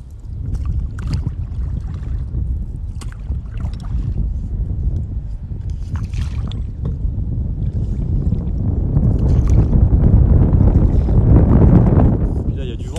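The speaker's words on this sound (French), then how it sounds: "Puis là il y a du vent maintenant." Wind gusting across open water during a paddleboard fishing outing, a low, buffeting rumble on the microphone that steadily swells louder toward the end, with occasional light splashes.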